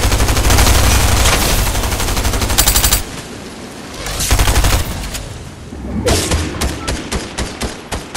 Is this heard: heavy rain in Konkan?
no